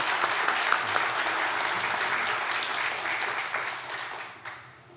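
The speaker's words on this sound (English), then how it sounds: "Please join me in giving both of our speakers a round of applause." An audience applauds two speakers at an evening interview event, a dense, steady round of clapping that carries on for several seconds before tapering off near the end.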